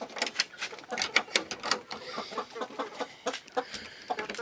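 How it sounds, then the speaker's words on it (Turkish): A Bolu rooster and other chickens clucking close by, a rapid series of sharp, uneven calls from several birds with rustling between them. "Burada arkadaşlar bizim e, Bolulu horozumuz var"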